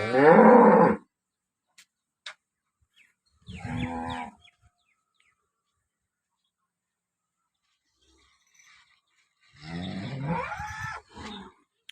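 A cow moos loudly three times, each low drawn-out call separated by long stretches of near silence.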